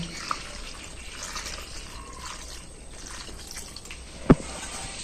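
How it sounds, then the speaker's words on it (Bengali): Water drains from freshly boiled pasta after a cold-water rinse: a faint, quiet trickle and patter, then one crisp, distinct drop lands near the end. "এই যে টপ টপ করে জলটা পড়ছে"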